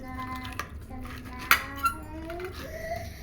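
Ingredients are stirred together in a bowl with intermittent clinks and scrapes of a utensil against the dish, including one sharp knock, while a voice talks through it.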